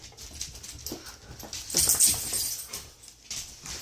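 Ladybug, a small dog dressed in an oversized Halloween costume, whimpers and whines in thin, nasal cries close by, with soft snuffles and shifting between the rising complaints.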